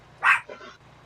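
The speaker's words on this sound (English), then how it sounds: "He's still gonna bark." A dog indoors gives one short, sharp bark followed by a softer second yelp, close by, with a low background hum.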